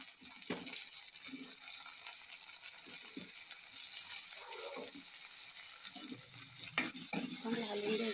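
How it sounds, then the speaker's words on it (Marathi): Tomatoes and turmeric stirred and sizzling in a pan, with a steady frying hiss and occasional scraping of the spoon against the pan. "चांगलं हलवून घ्यायचं"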